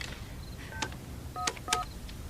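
Several short electronic keypad tones from a telephone being dialed, spaced irregularly and fairly close, over a quiet background hum without speech.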